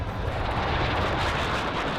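Aircraft roar over a battle zone in a war setting, a continuous dense rumble sustained at steady loudness throughout, with no clear separate blasts or voices.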